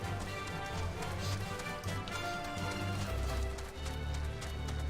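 Footsteps of a chocobo being ridden in a video game patter in a quick, steady clip-clop rhythm, moderately loud against faint background music.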